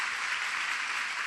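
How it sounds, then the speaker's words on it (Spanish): An audience at a church service claps loudly and steadily, a dense wash of applause with no breaks, heard alone for a brief moment. "dale un fuerte aplauso"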